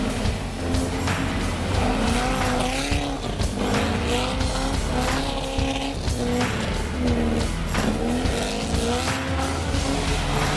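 A 1951 Porsche 356 driven hard on a rural road, its engine loud and steady throughout with rising and falling revs and squealing tires, no voices.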